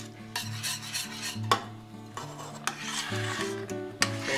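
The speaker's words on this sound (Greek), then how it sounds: "Θα το ανακατεύουμε έτσι." Carob cream being stirred in a saucepan, with a steady rubbing, scraping spoon sound and occasional sharper knocks against the pot, over background music.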